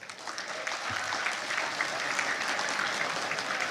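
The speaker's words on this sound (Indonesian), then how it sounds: "Untuk kali ini kita beri tepuk tangan untuk tim kebendaharaan kita." An audience at a party gathering of Partai Gerakan Rakyat applauds the treasury team, sustained dense clapping building after a brief start and continuing steadily throughout.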